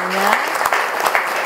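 Crowd applause for university students at an evening gathering, a brief burst of clapping heard alongside a voice speaking over it.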